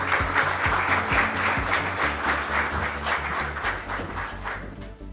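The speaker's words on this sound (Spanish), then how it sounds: "el doctor Antonio Siriaco Cruz, a quien recibimos con un fuerte aplauso." An audience at a book launch gives a strong round of applause, dense and continuous clapping filling the room for the full length before it fades at the end.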